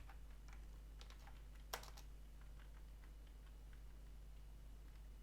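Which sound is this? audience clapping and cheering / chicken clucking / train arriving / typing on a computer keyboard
typing on a computer keyboard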